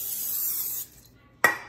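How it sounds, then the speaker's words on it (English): Cooking spray hisses steadily from a can onto a pan for nearly a second, then stops, followed by a short sharp clatter near the end, close and fairly loud, with no talking. "So you want to spray your pan"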